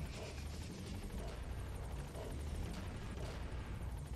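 Helicopter hovering in the stealth game Metal Gear Solid V: The Phantom Pain, a steady faint rotor chop and whine with no voices.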